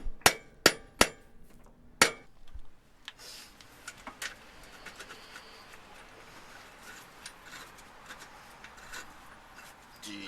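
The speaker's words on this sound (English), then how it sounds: "give it a tap with the hammer to get it started pushing out the other side" Several sharp metallic hammer taps on a rusty front shock absorber bolt ring out close by, four or five quick strikes, followed by quieter scattered clinks and scraping of tools.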